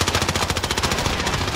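Steady machine-gun fire in Call of Duty: Modern Warfare, a continuous rapid rhythmic stream of close, loud shots with no pause.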